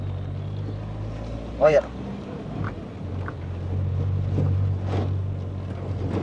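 A GTI 16-valve car engine runs steadily with a low, droning hum, some wind buffeting and faint mechanical ticks, while a voice speaks briefly over it.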